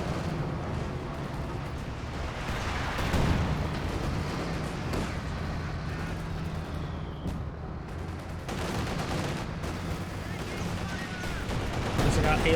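Artillery barrage in the World War II strategy game Company of Heroes, a steady rumble of distant shell blasts and battle noise running throughout, with a commentator's voice continuing over it.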